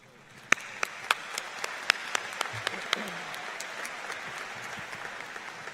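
Audience applause at the George Mason University Spring 2022 commencement ceremony, a steady spread of many hands clapping at moderate volume, with a few sharper claps standing out near the start.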